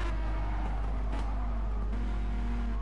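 A race car engine in a racing video game at Bathurst drops down through the gears, a loud steady drone with pitch steps as it downshifts, continuous and close.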